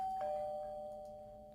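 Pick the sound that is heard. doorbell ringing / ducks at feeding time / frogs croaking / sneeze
doorbell ringing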